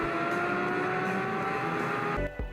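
A Porsche 992 GT3 engine howls at high revs toward its 9,000 RPM limit, a sustained, loud, rich mechanical wail that cuts off abruptly near the end with a brief drop and blip.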